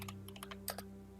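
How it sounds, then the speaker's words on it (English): Quick bursts of keystrokes clatter on a computer keyboard over a low electrical hum, fairly quiet and close. "HEF, what are you typing?"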